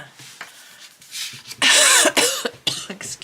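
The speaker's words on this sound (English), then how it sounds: "I'm still trying to shift this cough." A lingering cough, with one loud, harsh burst close to the mic, a shorter second cough after it, and quieter throat sounds and small movements before.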